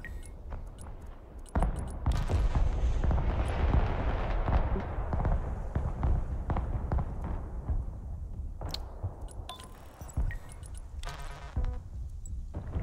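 Artillery barrage in the Broken Arrow war game, a sustained thundering roar of heavy blasts and rumbling impacts after a sharp onset, loud and near, with scattered cracks and pops later and almost no talk.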